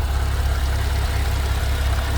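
A 2009 Porsche 911 Carrera Cabriolet engine idles with a steady, loud, low rumble that runs on evenly with no voices over it.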